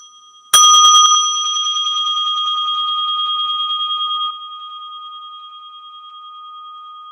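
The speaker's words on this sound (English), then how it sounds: "It's a Tibetan bell, and I'm going to ring it" A single bright strike of a Tibetan bell, its clear metallic tone ringing out and slowly fading over several seconds in a quiet room.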